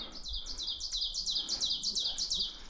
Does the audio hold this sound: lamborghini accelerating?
no